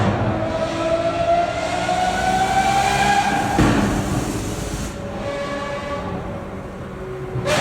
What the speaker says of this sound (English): But here's the sound of a Lambo.